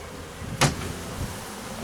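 A honey bee swarm in a hive, a soft continuous buzzing hum close by with one brief louder thump early on.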